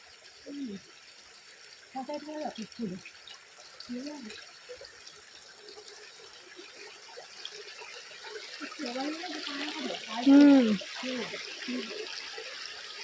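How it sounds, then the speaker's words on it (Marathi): Steady rushing water of a river flowing over rocks fills the background, while people talk and laugh now and then over it. "पाण्याचा काय आवाज येतोय ना मस्त"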